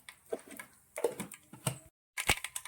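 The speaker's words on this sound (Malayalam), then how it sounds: "എണ്ണ ചൂടായിട്ടുണ്ട്. നമുക്ക് ആദ്യം തന്നെ കടുക് ഇട്ട് കൊടുക്കാം." Mustard seeds hit hot oil in a pan for tempering papaya thoran, giving bursts of small crackling pops and sputters, close but fairly quiet, with a brief pause before a final sharper burst, and no talking.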